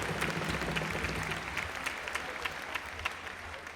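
Audience applause at a live jazz festival concert, a broad wash of many hands clapping with crowd noise that thins out over a few seconds, with a few sharper claps standing out toward the end.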